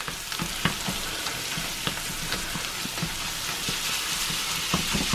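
Half a pound of 90% lean ground beef fries in a cast iron pan, a steady close sizzle with scattered pops and crackles running throughout, no talking.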